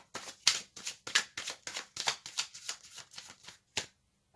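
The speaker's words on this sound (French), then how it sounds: "Je vais tirer une carte supplémentaire." Tarot cards shuffled and drawn during a Halloween reading, a close, steady run of crisp riffling snaps and slides repeating about a dozen times, with no talk over them.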